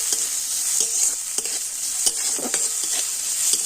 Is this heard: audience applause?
no